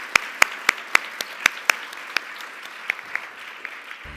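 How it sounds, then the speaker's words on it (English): Applause at an HR achievement awards event, sparse and fairly thin, with a few loud, evenly spaced claps from nearby hands over a soft background of scattered clapping that tapers off. "Please join me in a round of applause for his outstanding work."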